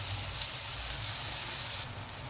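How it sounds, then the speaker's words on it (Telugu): Onions fry in a pan with oil, giving a steady, close sizzle of hissing crackle that runs continuously for a couple of seconds before easing slightly quieter near the end. "ఉల్లిపాయలు కొంచెం బ్రౌన్ కలర్లో నానేద్దాము, కొంచెం వేగనివ్వాలండి"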